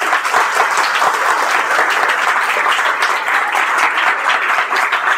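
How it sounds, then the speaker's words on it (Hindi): A classroom full of students clapping together, a dense, steady burst of applause that stays loud and even from start to finish with no voices over it. "बजाओ अच्छे से ताली।"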